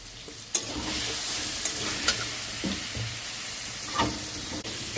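Vegetables seasoned with salt and turmeric are stirred in a hot pan in a home vegetarian kitchen, giving a steady close sizzle with scraping utensil knocks at irregular intervals and no talk.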